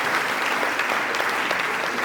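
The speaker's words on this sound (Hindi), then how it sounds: "जोरदार तालियों से अभिनंदन।" Loud, dense applause from an audience at a Geeta Pariwar gathering, an even sustained clatter of many hands for about two seconds.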